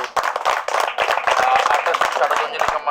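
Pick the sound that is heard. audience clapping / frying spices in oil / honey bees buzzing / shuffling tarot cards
audience clapping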